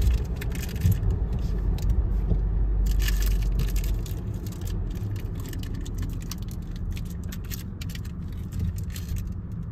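A car drives along a street in Baku, heard from inside as a steady low engine and road rumble with faint rattles and ticks, continuous and fairly loud throughout.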